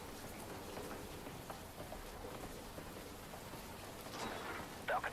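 Soft, steady rain hiss from a video game trailer, faint and continuous, with a low rumble and a brief sharper patter near the end.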